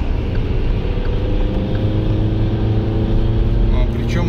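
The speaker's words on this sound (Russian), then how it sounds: "на полосе разгона педаль газа в пол" A Geely Atlas car engine drones steadily at full throttle on an acceleration lane, with road and wind noise, a continuous loud rumble that holds without easing.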